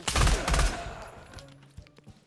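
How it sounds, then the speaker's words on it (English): A burst of rapid machine gun fire rings out in the Pavlov VR video game. The loud cluster of shots lasts about a second, then trails off into faint echoes and a few scattered pops. "He got blown up friggin' by the machine gun!"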